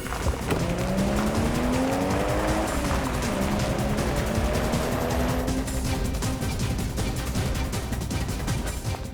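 A car driving out of control gives a sustained, loud tire squeal with rising and falling engine tones for several seconds, then a harsher, gritty skidding noise with crackling toward the end.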